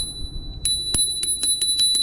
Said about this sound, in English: Got a little bell over here that